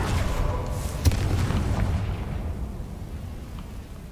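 A Confringo blasting spell explodes in Hogwarts Legacy, a deep booming blast with a sharp crack near the start, then a rumbling low roar that slowly fades away with no talk over it.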